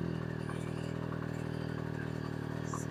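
A motorcycle engine idles steadily after being started, a continuous low rumble with a mechanical clatter running unbroken throughout, fairly close and moderate in level, with no talk over it.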